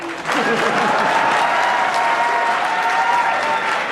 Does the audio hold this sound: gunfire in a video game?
no